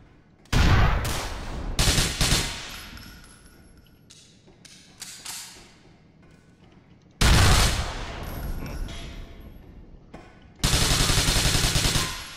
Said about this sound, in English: How did that guy have full health after those explosions?